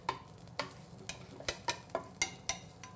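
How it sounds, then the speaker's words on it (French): Garlic and shallots soften in hot fat in a pan, a faint gentle sizzle broken by regular clinking stirs of a utensil against the pan, about twice a second. "on fait revenir un peu l'ail et l'échalote"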